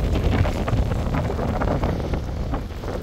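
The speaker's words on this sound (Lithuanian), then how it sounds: "Didelis vėjas" Strong wind beside the river near Canary Wharf in London buffets the microphone as a continuous, loud roaring rumble with no voices.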